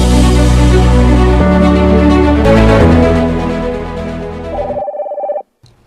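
A telephone rings loudly in a radio drama scene, its tone layered over a swelling music cue before cutting off into a short, thinner electronic trill.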